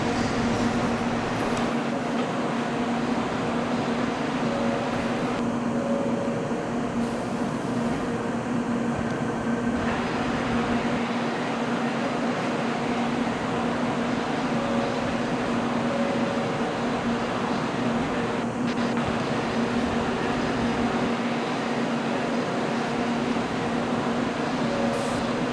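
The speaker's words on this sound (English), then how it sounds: "Now arriving on track 7 is a Florida Limited Southbound Local" Train arriving at a station in the Trainz railway simulation game: a steady, loud rumbling drone with a sustained mechanical hum runs throughout, with no talk.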